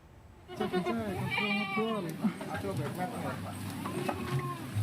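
Goats bleat repeatedly in sacrificial livestock sellers' pens in Jakarta before Eid al-Adha, several wavering cries close by, under a news narrator's voice and background noise.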